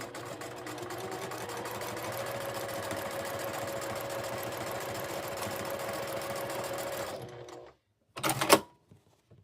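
A sewing machine with a quarter-inch presser foot stitches a seam at a steady, rapid clatter for about seven seconds. It stops abruptly, and one short mechanical burst follows.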